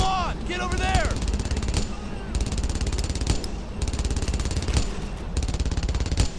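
Gunfire rages around a machine gun nest in Brothers in Arms: Earned in Blood during a fight through St Sauveur, rapid automatic bursts hammering loudly and continuously with sharp individual shots punching through.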